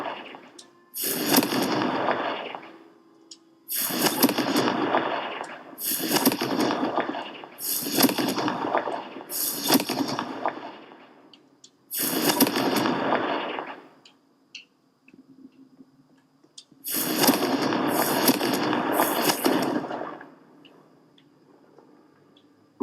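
Confringo fire spell blasts from the Hogwarts Legacy game, a series of loud, bursting explosive hits in clusters with short gaps of quiet between them.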